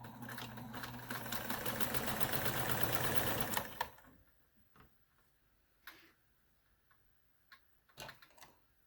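Sewing machine stitching a quarter-inch seam on a quilt square, a steady rapid mechanical ticking for several seconds that stops, followed by faint scattered clicks and handling sounds.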